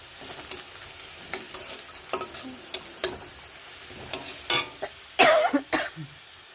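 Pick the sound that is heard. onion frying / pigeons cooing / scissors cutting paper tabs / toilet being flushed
onion frying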